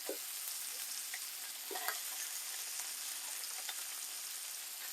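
Moroccan meatballs frying in a pan give off a continuous bright sizzle and crackle, with a few soft clinks as pieces are turned, steady and close with no talking.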